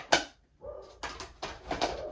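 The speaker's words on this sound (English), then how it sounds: "Sorry if you hear my dog barking." A dog barks indoors nearby, with several short, sharp barks spread unevenly over two seconds, fairly loud against a quiet background.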